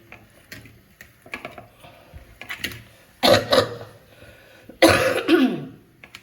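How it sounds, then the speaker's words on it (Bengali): A person with a persistent cold coughs: faint throat sounds and small ticks early, then two loud, harsh coughing bursts close to the microphone, each rough and breathy. "ভীষণই কাশি হয়েছে আমার, কমছে না কিছুতেই।"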